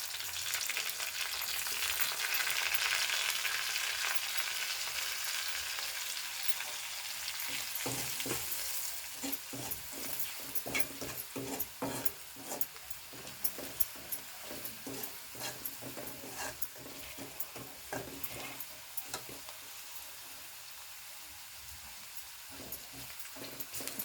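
Dried prawns and chilies frying with turmeric, chili masala and salt in a pan, a dense close sizzle with a run of quick stirring scrapes and clicks through the middle, easing back to steady crackle.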